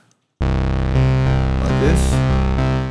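A sustained synth bass note starts after a brief silence, rich in harmonics, with a short melodic step up and a light reverb tail.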